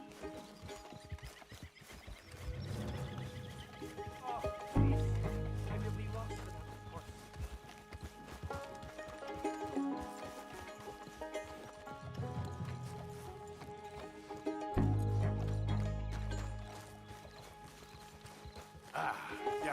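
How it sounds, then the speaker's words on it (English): Horse hooves clip-clop in a video game, with a steady run of clopping beats, neighs and game music behind them, and voices at times. "I'll find your horse."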